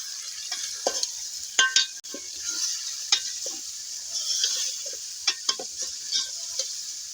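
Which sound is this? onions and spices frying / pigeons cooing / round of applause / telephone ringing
onions and spices frying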